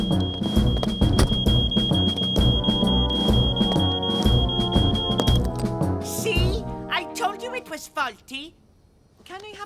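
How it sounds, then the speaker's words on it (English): A fire alarm in an animated fire station gives a steady continuous beep for several seconds over busy cartoon music and sound effects, then stops. "There's nothing wrong with that fire alarm, Norman, and you know it."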